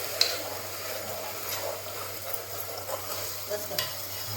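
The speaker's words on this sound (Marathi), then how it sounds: "वाटण टाकून घेतलं. आता थोडं फिरवायचं त्याला." Masala paste fried in hot oil for a mutton head curry sizzles steadily as it is stirred, with soft scrapes and a few clinks of the spoon against the pan, close and fairly quiet.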